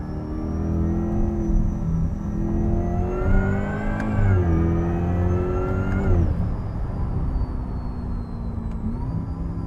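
A supercharged Corvette C8 E-Ray hybrid accelerates hard, its engine note climbing steadily with a brief dip at a gear change before rising again, loud and close with a continuous whirring drone throughout.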